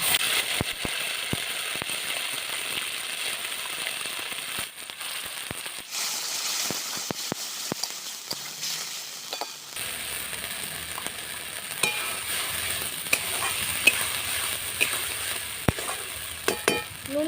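Blended spice paste hits hot oil already seasoned with dried red chillies, cumin and cinnamon, giving a steady close sizzle and crackle with occasional stirring scrapes, no talking.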